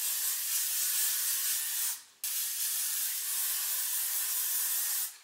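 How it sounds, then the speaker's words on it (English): Hairspray misted from an aerosol can onto freshly curled hair, two close, steady hissing bursts separated by a brief pause, with no one talking. "I just hairspray it before I brush it out."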